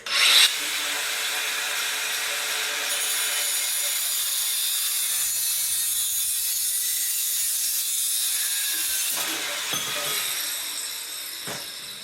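Continuous power-tool cutting of pieces for a bench top pipe anvil, a steady close whining grind that holds for about ten seconds before tailing off.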